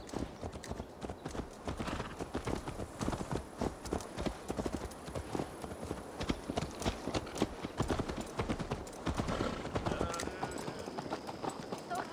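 Horse hooves clip-clopping in the video game Assassin's Creed Valhalla, a steady rapid patter of close hoof strikes running throughout, with talking mixed in over it.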